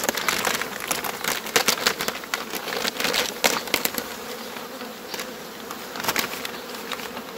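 Honeybees buzz densely around an opened beehive while frames are inspected for winter stores, a steady close swarm drone with scattered sharp clicks and knocks of handling throughout.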